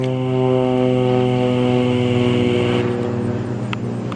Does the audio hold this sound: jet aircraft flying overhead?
yes